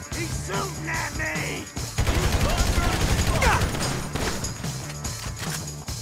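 Gunfire rattles in a chaotic indoor shootout in Grand Theft Auto V, bursts of shots mixing with crashes and loud, agitated shouting voices throughout.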